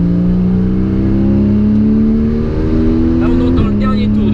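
A Porsche Cayman S on a race circuit, its engine droning steadily and rising in pitch under load, then dropping sharply near the end as a gear changes, loud and close throughout.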